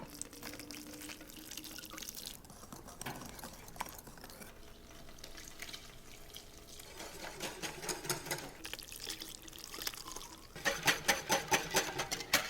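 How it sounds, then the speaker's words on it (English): Hot milk is poured slowly into whisked double-zero flour for a lemon custard, giving a steady liquid trickle and stirring scrape that grows louder and more rhythmic toward the end, with no talking. "And now we slowly add the hot milk to this."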